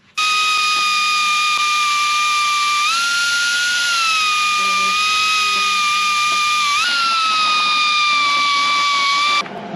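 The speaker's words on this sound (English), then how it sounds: "grind these bolts just enough so that I can get a good surface" A grinder works the old bolts on the radiator of a 1939 Caterpillar D4 crawler tractor, giving off a loud, steady high-pitched whine that shifts pitch slightly a few times and runs nearly ten seconds before cutting off.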